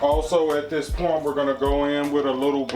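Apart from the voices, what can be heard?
None of the usual background noises is heard.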